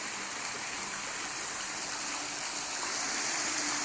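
A waterfall at Simala Shrine roars as a steady, unbroken hiss of falling water, even and fairly loud throughout with no voices.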